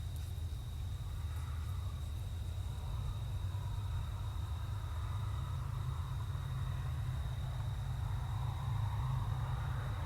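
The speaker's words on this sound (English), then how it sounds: "you can hear traffic on the highway above" Highway traffic passing overhead forms a low, continuous rumble of engines and tyres, distant and faint, with a steady hiss and no voices.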